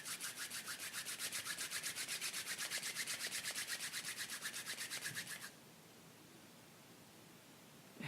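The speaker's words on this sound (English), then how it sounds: "Just rubbing your hands together a little bit now." Two hands rub briskly together in a quiet room, a close, steady rhythmic swishing of skin on skin that runs for about five seconds and then stops, leaving soft room tone.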